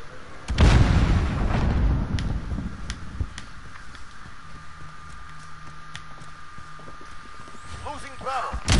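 A grenade in a Modern Warfare multiplayer match goes off in one loud, close blast that rumbles and fades slowly, followed by quieter background noise and a voice speaking near the end.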